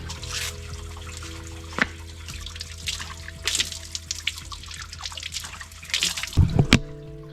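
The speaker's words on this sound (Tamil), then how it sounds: "எப்பயுமே இதில் தண்ணி வந்து கொண்டே இருக்கும்" Water trickles and drips close by into a basin in Vietnam, with small splashes and a brief louder gush near the end, over a low steady hum.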